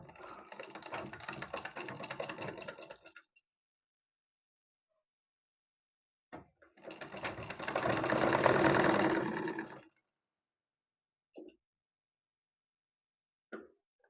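A sewing machine stitches ribbon onto a blouse latkan, heard as two close, rapid bursts of whirring stitching of a few seconds each, separated by silence and short clicks of handling.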